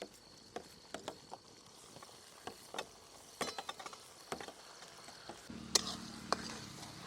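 Onion and spice masala frying in oil in a pan over a wood-fired village stove, with a low steady sizzle under repeated scraping and stirring clatters of a spoon against the pan, close by.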